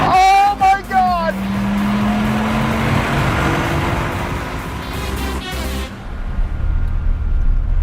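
A Dodge Viper's engine roars close up while being driven hard, shifting up then holding a heavy rumble before cutting off, with people talking excitedly over it.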